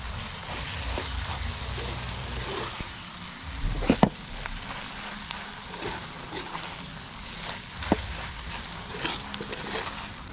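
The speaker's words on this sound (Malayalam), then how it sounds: "എല്ലാം കൂടി നമുക്കൊന്ന് ഇളക്കി യോജിപ്പിക്കും." Garam masala and ground spices frying in oil in a pan on a wood-fire stove, being stirred together for a village-style beef roast. A steady close crackling sizzle runs throughout, with a couple of sharp scraping knocks from the stirring and no talk.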